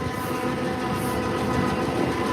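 A John Deere 7530 tractor engine runs with a steady, dense rumble and mechanical rattle, close and continuous throughout with no talk.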